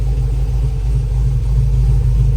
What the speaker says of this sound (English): You ready to hear your car turn on?